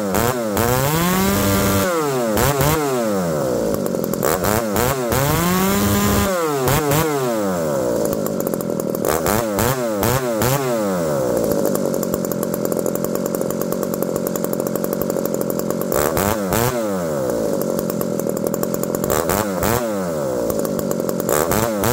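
Ported Husqvarna 394XP chainsaw running close and loud with no talk, revving up and down repeatedly and holding at high speed between revs, its engine note wavering with a slight stumble.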